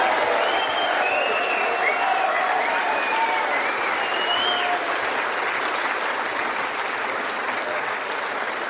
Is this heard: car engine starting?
no